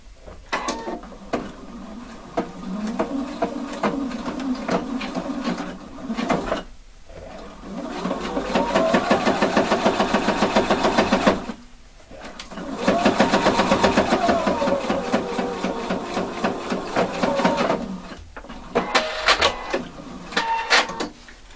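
A sewing machine stitches a fake double welt pocket in three long bursts of rapid, even needle chatter, separated by short pauses, close and fairly loud with no voices.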